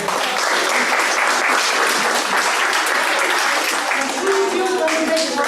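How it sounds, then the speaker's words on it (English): A meeting audience at an all-hands gathering gives a big, steady round of applause, dense and loud throughout, with a few voices and cheers mixed in near the end. "give ourselves a big round of applause"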